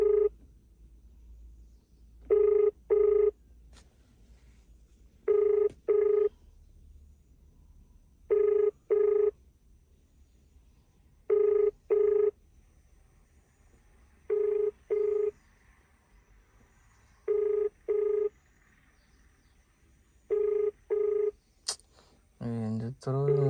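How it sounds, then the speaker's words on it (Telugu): A phone call rings out unanswered, its ringback sounding in repeated double bursts about every three seconds over a low hum, ending in a brief garbled voice prompt. "అవుతుంది కానీ ఫోన్ ఎత్తట్లేదు."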